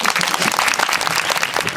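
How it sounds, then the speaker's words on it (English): Audience applause after a school English debate, a dense steady wash of many hands clapping together, loud and continuous throughout with no talk over it. "Give applause to all."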